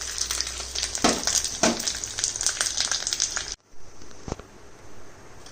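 Coconut pieces fry in hot oil with a loud, steady sizzle, broken by a few stirring clatters, then a brief drop to near silence before a quieter crackle resumes.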